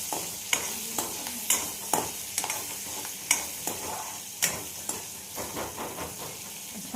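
Chillies fry in a pan with spices and kasuri methi, a low steady sizzle and hiss punctuated by regular sharp clacks and scrapes of a spoon stirring against the pan, close by and without speech.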